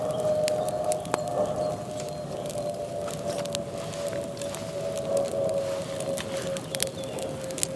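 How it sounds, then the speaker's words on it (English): Damp wood being laid on a campfire gives off a steady hiss as the water dries out of it, with a thin continuous whistle and scattered faint crackles and pops, close and unbroken. "there's a bit of a hiss, which is basically just the water drying out from some of this stuff"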